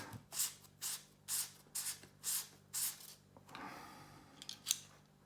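Close, rhythmic strokes of abrasive paper sanding down a carbon quiver tip for a fishing rod, about six regular rasping passes followed by a few softer, scattered rubs.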